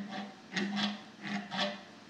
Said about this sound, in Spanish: El serrucho, vamos a ver.